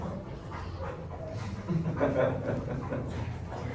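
Elmer, a year-old rescue dog, gives soft whimpers and a couple of yips and barks at close range, mixed with a person's murmured voice and light laughter.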